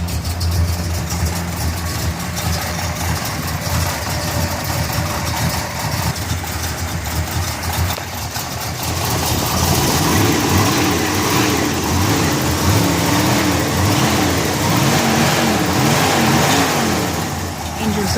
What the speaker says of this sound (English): Engine sounds pretty tight.